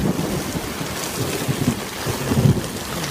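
Heavy rain pours with low rumbles of thunder rolling through, a broad steady wash near a porch with a broken gutter, swelling slightly toward the end; no one speaks.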